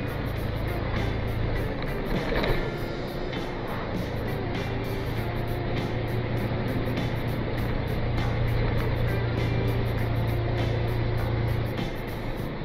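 A truck cruises along a road, its engine giving a continuous low rumble with a steady hum and road noise throughout, no one talking.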